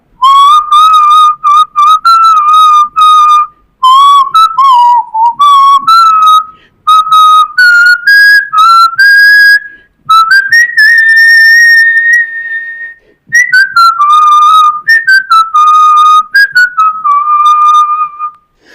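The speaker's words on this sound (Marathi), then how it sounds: "मी शिट्टीतून गाणं म्हणून दाखवणार" A person whistles a song alone and up close, a clear, loud melody of sliding and held notes in phrases broken by short breaths, running for the full length.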